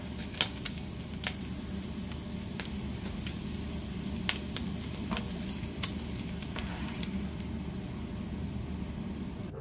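Steady, busy sizzle of bacon grease in a frying pan with a constant crackling hiss and occasional sharper pops, fairly loud and continuous, no voices.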